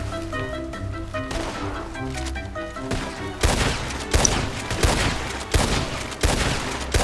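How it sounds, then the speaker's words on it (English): Gunfire trading in Red Dead Redemption 2, a rapid string of sharp shots and bursts close by over game music, growing denser and louder midway and continuing in repeated cracks. "I'm just giving covering fire."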